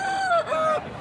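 A rooster crows once at a weekly village market where large chickens are sold, a short, clear call close by against faint background murmur.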